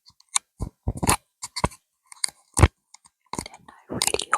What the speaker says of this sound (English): mic touching and scratching of this pop filter